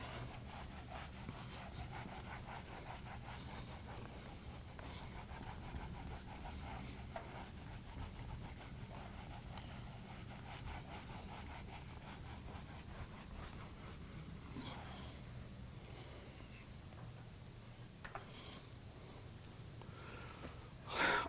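Continuous rubbing and scraping of an eraser across a lecture board, steady and faint, with repeated short strokes throughout and no talking.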